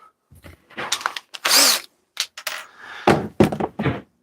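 A power drill backs Phillips screws out of a Grum RC car differential, sounding in several short whirring bursts separated by clicks and knocks of the tool and parts, all close and fairly loud.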